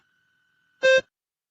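A single short electronic beep from an exam recording marks the start of preparation time, clean and loud, after a faint steady tone.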